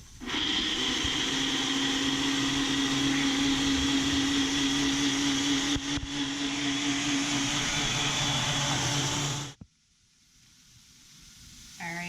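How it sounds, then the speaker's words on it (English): A NutriBullet blender whirs steadily, loud and close, as it purées soaked cashews into a thick vegan mac and cheese sauce, then cuts off sharply near the end, leaving quiet. "I'm going to just plop this onto the NutriBullet and mix it all up and create our cheese sauce."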